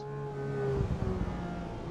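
A race car engine in Assetto Corsa EVO at the Nürburgring revs hard, its steady droning pitch dropping abruptly at a gear shift, then rumbling on loud and close with no talk.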